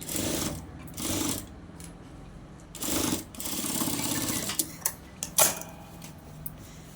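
A sewing machine stitches along a blouse neckline in short runs of rapid mechanical whirring, separated by brief pauses and a few sharp clicks, close and clear with no talking.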